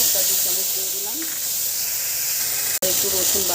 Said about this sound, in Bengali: তেলটা চিনি এলাচ শুকনো লঙ্কা আর তেজপাতা ফোড়ন দিলাম